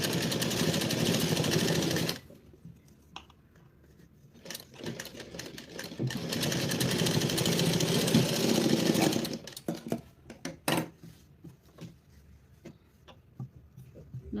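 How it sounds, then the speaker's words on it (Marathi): Sewing machine stitching fabric, a fast buzzing rattle in two long runs separated by quieter handling clicks, close and steady. "आपण जसा आकार दिलेला आहे तसंच आपल्याला इथं स्टिच करायचं आहे"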